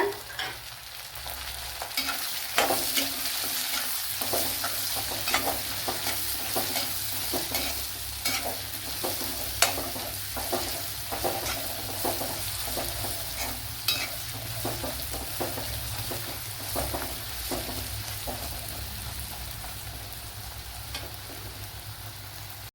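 Carrots and mixed vegetables stir-fry in a hot pan, a continuous close sizzle with frequent quick scrapes and clicks of a spatula throughout, no voices.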